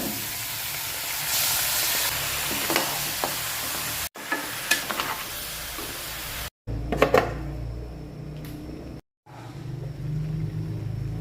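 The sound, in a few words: beef frying in pan with garlic and onion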